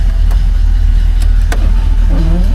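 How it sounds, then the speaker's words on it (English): A 1970 Chevrolet Malibu with a 350 V8 idles steadily just after starting, a loud, continuous low rumble with a few brief higher clicks and a faint whine near the end. "Fire's right up. That 350 sounds good. We're gonna let her warm up."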